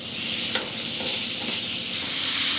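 Butter and garlic sizzle steadily in a small frying pan, a loud, close, continuous hiss and crackle with no talking over it.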